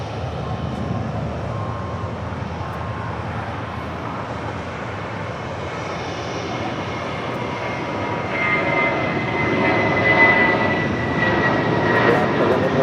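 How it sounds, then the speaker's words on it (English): A United Airlines Boeing 737 MAX 9 arrives at Los Angeles International Airport with a steady jet roar that builds and sharpens with a rising whine toward the end, heard from a distance. "This flight, United Airlines flight 1977, coming in from Cleveland, Ohio, in the 737 MAX 9."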